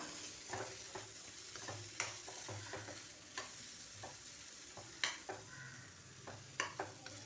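Garlic cloves being stirred into chayote chutney in a pan, with a spoon clacking and scraping against the metal in irregular strokes over a low, steady frying hiss.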